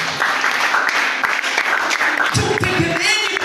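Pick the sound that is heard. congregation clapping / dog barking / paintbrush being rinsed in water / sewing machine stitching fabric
congregation clapping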